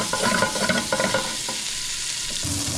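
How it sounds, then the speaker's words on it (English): Onions sautéing in olive oil in a pan, a close crackling sizzle with quick stirring scrapes early on that then settles into a softer, steady fry. "Then we're going to add the onions. Saute them until they are lightly golden."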